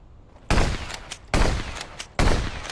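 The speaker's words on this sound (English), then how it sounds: "Good old-fashioned shootout." Three loud, sharp bursts of video game gunfire in a shootout, each a sudden blast with a short ringing decay, spaced roughly a second apart with no talking.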